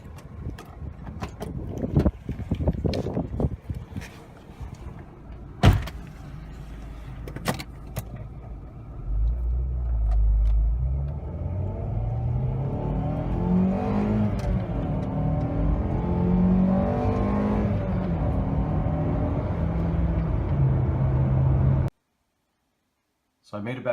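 A 1992 Acura Integra GS-R with 250,000 miles drives through the desert, first with clicks and handling noises, then a steady engine drone rising in pitch as it accelerates, with someone talking over it before it cuts out.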